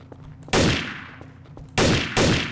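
Gunfire in Garry's Mod's Trouble in Terrorist Town mode: three loud, sharp bursts, with the first ringing out in a long decaying tail before two quick shots follow close together near the end, with no talking.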